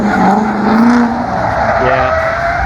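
A drift car at a track event slides with drawn-out tire squeal over a loud engine, the pitch wavering as it skids; voices can be heard faintly under the noise.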